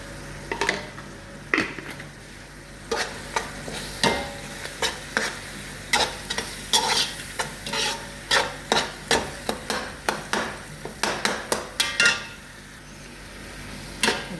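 Spices for chicken biryani, including red chili powder, stirred and frying in a pan, with a steady sizzle under repeated sharp scrapes and clinks of a spoon against the metal, close and rhythmic, no voices.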